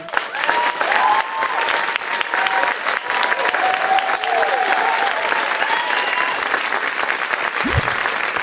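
A crowd at a Bay Area street dance performance applauds loudly and steadily, dense clapping sustained throughout with some cheers and whoops mixed in.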